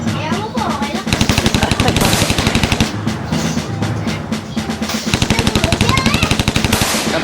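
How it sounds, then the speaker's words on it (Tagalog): Rapid bursts of automatic gunfire from a video game, with loud rattling volleys in stretches across the clip and short pauses between them; no voices are heard over the shooting. "Oh, nabaril si Ilay, nabaril si Ilay."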